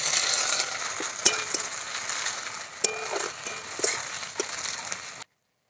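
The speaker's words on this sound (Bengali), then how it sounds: "এবার দিয়ে দেবো, তেল গরম হয়ে গেছে, দিয়ে দেবো কুচনো পেঁয়াজ" Chopped onions hit hot oil in a wok, giving a soft steady sizzle with scattered sharp clicks and scrapes of stirring, fairly quiet and free of talk.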